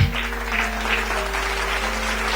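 A church congregation applauding loudly for the Lord, sustained dense clapping close by with a low hum underneath, no speech.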